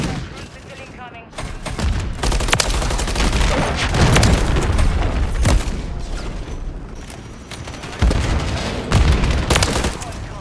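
Dense assault rifle gunfire and booming explosions in Call of Duty MW3 multiplayer with an MCW assault rifle, loud and continuous bursts with heavier blasts near two and eight seconds, under occasional game voice callouts.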